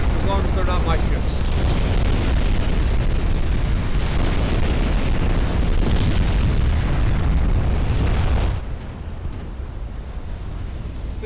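A ship explodes from a flash fire in a naval video game, making a heavy rumbling roar that holds loud for several seconds and then drops off sharply, with a voice talking over it.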